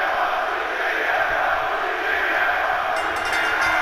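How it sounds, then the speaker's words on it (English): A wrestling arena crowd in Chicago roars steadily behind CM Punk, a dense wall of cheering and shouting that stays loud and constant throughout. "Listen to the crowd behind CM Punk."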